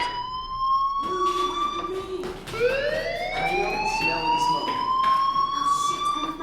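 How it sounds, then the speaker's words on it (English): An electronic fire alarm in the video game Life Is Strange blares continuously, its tones rising and sweeping upward in pitch as they repeat, loud and steady with no talking over it. "do you hear that fire alarm?"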